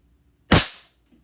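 One sharp, close crack from a suppressed airsoft Makarov pistol, with a short decaying tail and quiet before and after.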